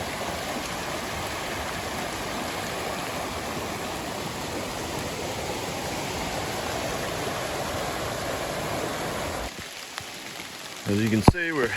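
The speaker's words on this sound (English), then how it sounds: "Rain's definitely picking up." Steady rain hissing down through a Great Smoky Mountains forest near a creek, a broad continuous wash that drops off near the end as brief nearby sounds break in.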